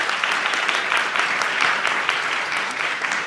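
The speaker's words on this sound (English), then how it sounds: "a round of applause for our panelists" A conference audience applauds panelists after a health-policy discussion: continuous, evenly sustained clapping from a sizeable crowd in a hall, with no voices on top.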